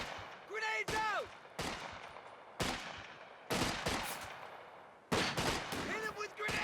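Grenades are thrown and burst in Company of Heroes 2, with several sharp explosive blasts at irregular intervals and rising whistle-like tones between them.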